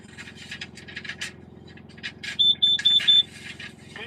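A carbon monoxide alarm in test mode gives a series of short, piercing high beeps in a quick rhythm, preceded by faint scraping and clicking handling noises.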